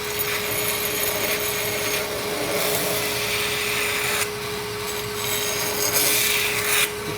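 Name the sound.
filing burrs off the edges of a steel blade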